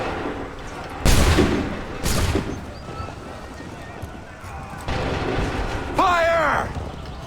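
Musket volleys in the game Assassin's Creed III: a few loud, sharp, booming bursts of massed fire spaced apart, with shouted commands and battlefield noise between them and a horse whinnying.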